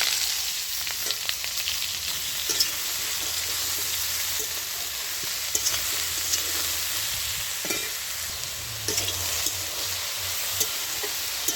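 Eggplant and sweet potato sizzle in a pan with white mustard seeds tempered in oil. A steady close frying hiss runs throughout, broken by occasional scraping stirs, with no one talking.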